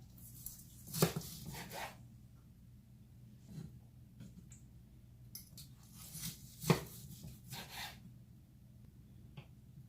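A knife cuts through a cooked, juicy sweet and spicy pork tenderloin on a board, making two sharp taps and a few softer scraping slices in a quiet kitchen.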